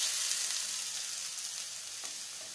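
Chopped shallots frying in coconut oil give a soft, steady sizzle with a light stirring scrape near the end, fairly quiet and with no voices.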